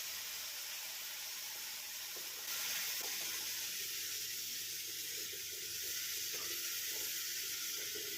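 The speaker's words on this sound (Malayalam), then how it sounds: "ശർക്കര പാനില്ലേ അത് അരിച്ചതിന് ശേഷം ഇതിലേക്ക് ഒഴിക്കാം" Strained jaggery syrup poured into a hot pan of semolina, a sizzling hiss that jumps up a few seconds in and carries on steadily.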